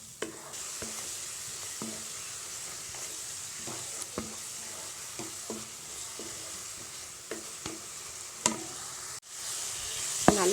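Coriander leaves and green chilies sauté in hot oil with salt, a steady sizzle broken by regular scraping stirs of a spoon against the pan, close and moderately loud with no voices.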